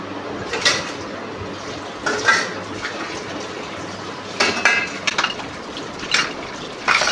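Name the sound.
washing dishes, pots and cutlery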